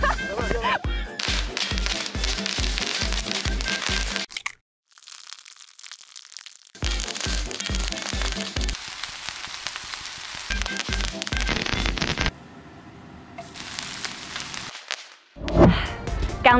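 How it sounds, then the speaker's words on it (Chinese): A long string of firecrackers fires off in rapid, dense bursts of loud cracking bangs outdoors, stopping and restarting in several runs with short quiet gaps, very close and harsh. "我们就要先来实测鞭炮需要多少时间才会炸完"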